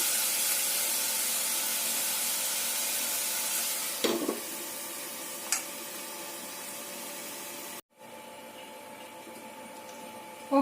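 Ginger garlic paste fries in a pan, giving off a steady, fine hiss close by with a couple of faint clinks, before the sizzle drops out abruptly near the end.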